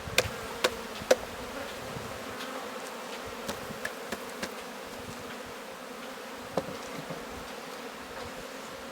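Honey bees buzzing at an open hive, a continuous close drone of many insects with sporadic sharp taps and knocks from hive equipment.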